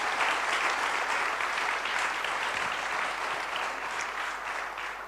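Sustained audience applause at a political debate on ecology and capitalism, a dense, steady wash of many hands clapping at even loudness throughout, with no voices over it.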